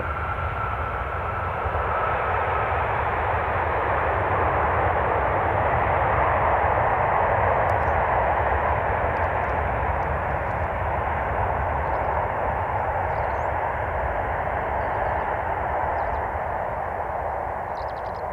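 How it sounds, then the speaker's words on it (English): Jet engines of an Airbus A320 at an airport roar steadily and loudly for the whole stretch, a broad sustained rumble with no talking. "bit of the old noise coming off those engines from the A320 there"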